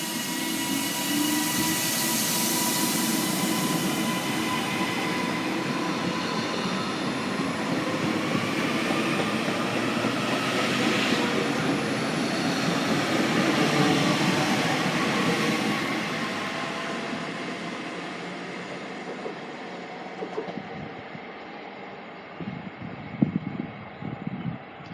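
A Class 397 train runs through Penrith station with a steady loud rushing roar and faint rail clatter, then fades away over the last seconds, with no talking.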